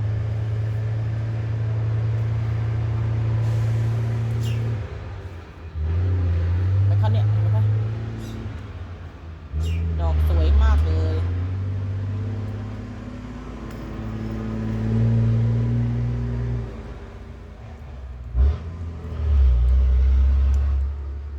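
Cars passing on a road beside a house with a flowering hedge along the fence, low rumbling engine drones that swell and fade one after another, fairly loud, with someone talking over them.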